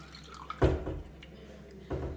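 Lime pickle liquid poured from a container, a brief close splash and trickle of liquid followed by a short second pour.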